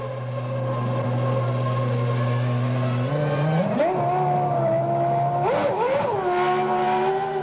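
A Ferrari Formula 1 car racing at the 1998 Austrian Grand Prix, a loud, high-pitched engine whine that climbs and drops through gear changes, sustained and up close.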